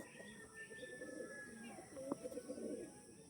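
Andhra pigeons coo in low, throaty rolling phrases close by, with faint chirps and light background noise around them.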